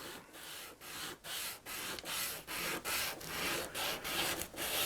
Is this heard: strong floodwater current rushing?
no